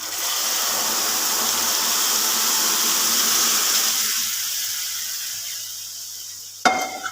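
Semolina frying in a pan on a low flame hisses and sizzles steadily, then quiets sharply as sugar syrup is added for halwa, ending with a single clink.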